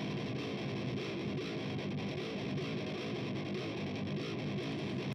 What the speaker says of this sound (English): we reamp this DI track through either the same amp or another amp at a much lower gain and a lot more mid-range